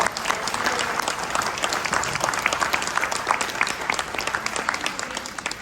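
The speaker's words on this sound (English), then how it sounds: "A round of applause." Audience at a Buffalo Soldiers award banquet applauds steadily, a dense wash of clapping hands held at even strength throughout, close and with no talk over it.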